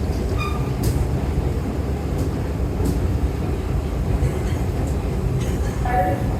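A New York subway shuttle train at Grand Central rumbles steadily up close, its low, continuous roar punctuated by brief metallic squeals and clicks, with faint voices mixed in.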